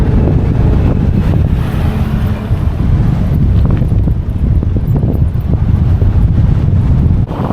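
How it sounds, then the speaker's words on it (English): Steady, loud wind buffeting the microphone on a 500-metre bridge in Vung Tau, Vietnam, with a low rumble throughout, continuous and rough, with no voices. "It's quite windy here."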